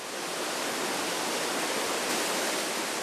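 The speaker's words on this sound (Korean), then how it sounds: "이곳이 파도에 쓰이는 대량의 물이 모이는 곳이라고 하는데요." Large volume of water rushing into the upper holding reservoir that feeds a water park wave pool, a steady, dense broadband roar close by with no break and no voices.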